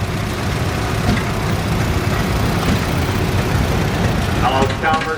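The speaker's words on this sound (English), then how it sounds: "Chalmers Model 200. This is anyhow one of the 100 series there. good-sized tractor, built in 1972" Allis-Chalmers Model 200 tractor, a good-sized 1972 machine, rumbling past in a tractor parade, a steady low engine drone mixed with crowd and outdoor noise.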